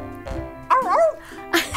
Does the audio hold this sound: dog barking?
yes